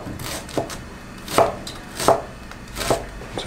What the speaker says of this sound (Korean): 그 다음에 우리 양배추도 채를 썰어 줄 건데